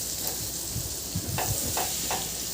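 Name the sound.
stirring flour into melted butter in a pan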